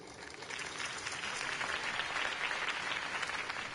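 Crowd applause in a video game swells after a politician's campaign speech, a steady dense wash of clapping holding at even loudness throughout.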